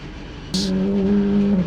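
A car engine hums in the background, then the loud tonal engine drone of an Audi RS3 TCR race car on a track kicks in suddenly and holds steady, close by, after a brief hiss.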